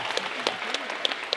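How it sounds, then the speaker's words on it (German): Audience applause at a cosplay contest at the DeDeCo 2017 convention, a brief steady patter of clapping from a crowd with a few sharper claps standing out. "Einmal einen kräftigen Applaus"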